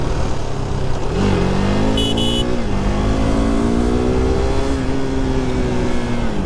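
A KTM RC 390 motorcycle accelerates on a ghat road, its engine note climbing steadily through the gears, loud and close against wind rush.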